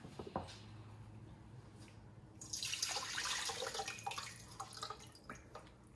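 Water runs and splashes as a whole chicken is rinsed and the water poured off, with a low hum underneath and a louder gush of pouring in the second half.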